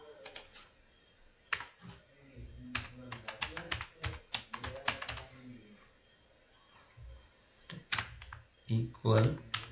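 Computer keyboard typing in bursts of rapid clicks, close and fairly quiet, with pauses between runs as code for a C++ square perimeter calculator is entered.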